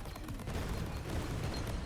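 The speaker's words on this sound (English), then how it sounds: "You see how many explosions we have." Dense, unbroken barrage of overlapping explosions and gunfire-like blasts from the bullet-heaven roguelike game Greedland, a steady loud roar with no pauses and no speech.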